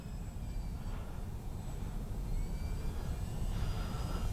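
A radio-controlled Avios Albatross HU-16 model plane comes in to land with flaps down. Its engine drones steadily and fairly loud, with thin whining tones over a broad rushing noise.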